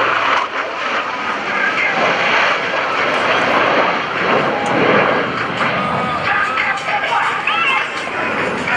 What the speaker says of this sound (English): From behind the spectator area, Blue Angels 5 and 6 are approaching the flight line in a line of rest formation